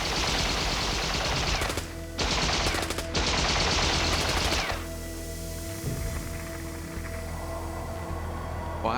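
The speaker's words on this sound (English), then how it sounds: "and the guards open fire." Guards opening fire at the Berlin Wall: several loud, sharp bursts of rapid gunfire in quick succession, followed by a lingering low rumble and scattered softer shots as the firing dies away.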